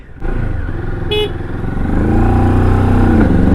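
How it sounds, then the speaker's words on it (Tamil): Moto Morini parallel-twin motorcycle engine running steadily and loud up close, a low rumbling drone that builds slightly toward the end, with a brief higher tone about a second in; no talk. "ஸ்மூத் இன்ஜினுங்க பேரல் ட்வின்னு ஒன்று ஸ்மூத்தாக இருக்குது வண்டி மோட்டோ முரணி வேறு லெவல் நீ"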